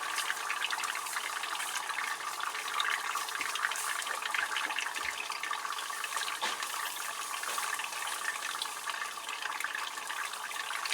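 Continuous broadband splashing and gushing of liquid nitrogen poured onto watercooled RAM, steady and fairly loud for the whole stretch, with a few brief thuds underneath.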